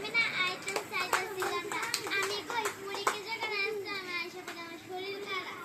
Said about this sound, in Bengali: তোমাদেরকে অসংখ্য ধন্যবাদ হাততালি দাও